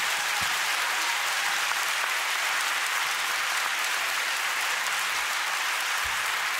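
Steady, even applause from a live audience at a comedy podcast recording, a continuous wash of clapping throughout.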